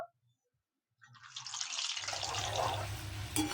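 Peanuts drop into hot oil for raw papaya chanachur. After about a second of near silence, a sizzle starts and swells into a steady, loud crackling hiss over a low hum.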